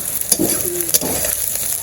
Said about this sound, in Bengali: আজকে পটল ভাজাতে পেঁয়াজ দিলাম